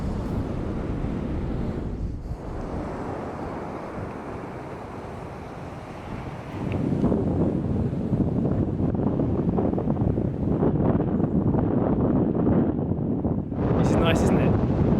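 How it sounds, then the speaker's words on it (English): Gusty seaside wind at a beach in Figueira da Foz roars against the microphone, growing stronger and louder partway through and staying constant until the end. "Very windy."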